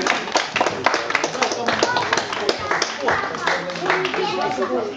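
Crowd clapping for a veteran rider at an aquabike championship award ceremony, lively uneven applause mixed with talking voices close by throughout.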